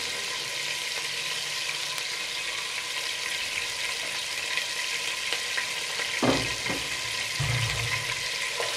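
Garlic and ginger frying in oil for chicken khichuri, a steady close sizzle throughout, with a couple of brief stirring clunks from the pan near the end and no talking.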